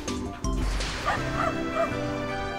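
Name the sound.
dog barking and whimpering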